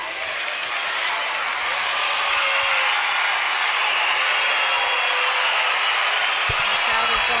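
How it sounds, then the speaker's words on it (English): Crowd at the Saracen Joust in Arezzo cheering and applauding, a loud continuous roar of many voices and clapping that holds steady throughout the stretch. "The crowd is going wild."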